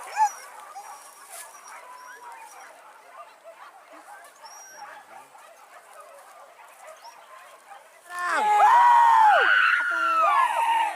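A hunting dog on a wild boar hunt whimpers and whines in a steady stream of high, thin cries, then louder yelps and squeals break out near the end.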